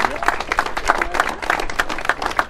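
An audience at a community wall-raising event applauds with dense, sustained clapping from many hands throughout, close and lively, and some voices mix in.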